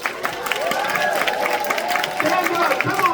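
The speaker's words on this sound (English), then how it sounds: "give them a big round of applause" Audience applause and cheering at a Blair Witch panel during Scarefest Weekend 2024, a dense, steady crowd roar of clapping and shouts held at even loudness for a few seconds.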